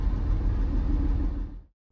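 A BMW E46 325i idles close by with a steady low rumble, alone, for under two seconds before cutting off into silence.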